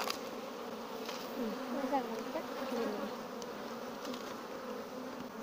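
Honeybees buzz on a comb in a split hive, a continuous close drone of many wings with small rises and dips, steady throughout with no pause.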